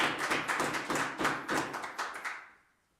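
Audience clapping during a live broadcast of an MTC draw: a burst of several sharp hand claps in a loose rhythm, fairly close and loud, thinning out and fading to quiet by the end.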